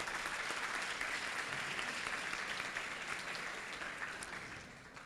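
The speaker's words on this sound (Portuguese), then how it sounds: "pedir uma salva de palmas também para o professor Eduardo" An audience at a Brazilian lecture on high school education reform claps for a professor, a dense patter of applause that starts fairly full and gradually thins and fades, heard faint and at a distance.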